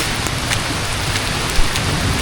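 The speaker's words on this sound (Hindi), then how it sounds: "बारिश में शिद्दत में इजाफा हो गया है" Heavy rain pours down on a track in Murree, a dense, loud, unbroken roar of drops close by with a brief thud near the end.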